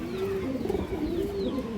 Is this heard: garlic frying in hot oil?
no